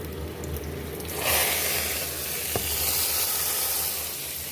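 Red chilli, green chillies and cumin sizzle hard in hot oil for a kadhi tempering, a loud broadband hiss that swells after the first second and holds steady, with one brief clink partway through.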